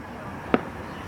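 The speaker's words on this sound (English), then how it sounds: "Look at the 4th of July fireworks." A single Fourth of July firework bursting at night, one sharp distant boom standing out against steady background noise.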